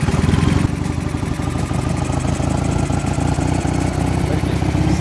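A Ural Volk motorcycle engine fitted with Chinese carburetors runs loud and close after starting, a steady rough idle with fast, even firing pulses and no pauses.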